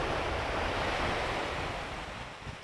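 Sea waves wash continuously onto the shore in a broad, steady roar, loud and close, with wind buffeting the microphone and the surge easing slightly toward the end.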